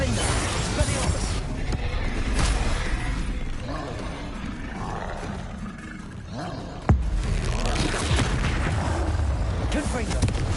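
Confringo and Expelliarmus spells are cast in the Hogwarts Legacy video game, producing loud roaring blasts and booming impacts over a dense, continuous battle din, with a sharp crack near the middle.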